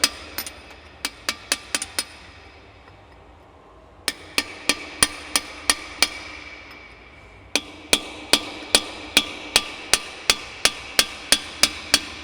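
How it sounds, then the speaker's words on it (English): Steel hammer blows on a flattened chisel, snugging up the shaft nut of a JBS E-Series beater gearbox: crisp, ringing metallic strikes in three quick bursts separated by short pauses, close and loud, with no talking. "Take our flattened off chisel. We wanna snug this up good."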